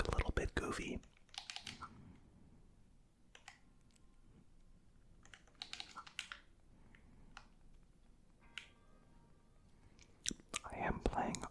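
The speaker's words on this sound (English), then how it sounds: "I am playing on my Pro controller, so there's not going to be as many clicky sounds" Pro controller buttons click softly during Zelda Breath of the Wild play, scattered taps and clustered clicks close to the microphone, with quiet whispering between them.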